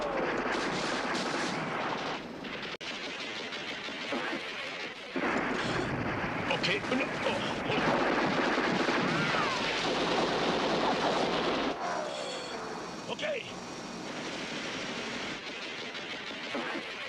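Loud, sustained gunfire from a film battle scene with booming explosions and rapid bursts, mixed with a rumbling roar and shouting voices throughout.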